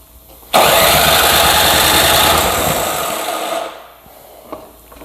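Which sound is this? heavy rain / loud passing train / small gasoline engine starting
small gasoline engine starting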